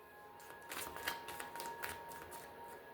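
A deck of tarot cards is shuffled close by, giving a quiet run of soft riffling and flicking bursts over a few seconds with a faint steady hum behind it.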